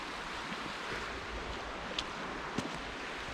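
Rough, choppy creek water in Mill Creek Park, Youngstown, a steady broadband rush of surf-like churning with faint wind noise, a couple of small splashes standing out, no voices.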